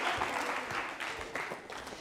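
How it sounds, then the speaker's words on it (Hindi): An audience at a college anniversary quiz show in Jaipur applauds in a steady, dense patter of many hands that holds at an even, moderate level throughout. "जोरदार तालियां बजाइए, जोरदार तालियां।"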